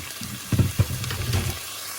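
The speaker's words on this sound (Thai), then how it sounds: "ใส่ตัว กระดาลงไปเลยเอาไปผัดต่อค่ะ" Neem flowers and pork are stir-fried in a pan, giving a short burst of sizzling with a couple of scraping stirs close by, fading to a soft hiss within two seconds.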